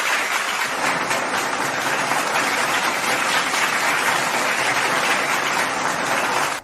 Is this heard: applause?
yes